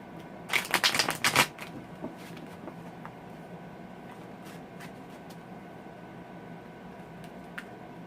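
A deck of steampunk tarot cards is shuffled in a quick, close burst of riffling for about a second, followed by a long quiet room tone with a few faint ticks.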